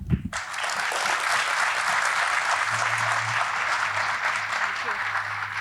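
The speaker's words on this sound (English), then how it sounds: "Let's clap again for the 4th campus." Sustained applause from a crowd at a college campus opening, loud and continuous after a brief voice at the start, with a faint low hum underneath.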